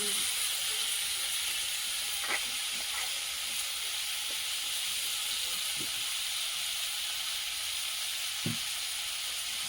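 Vetki fish curry sautéing in a pan over a strongly burning stove gives a steady, continuous sizzle and hiss. It runs alone, with a few faint clinks and taps.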